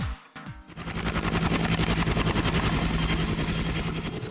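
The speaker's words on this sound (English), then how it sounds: "And that is the sound of a helicopter." Helicopter rotor chop, loud and close, with steady rapid blade thumping over a continuous engine drone after a brief quieter start.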